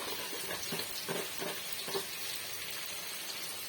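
Chingri mach and kochur loti sizzle in a pan with spices while being stirred, a steady crackling hiss broken by a few soft scraping strokes of the spoon, close and fairly quiet.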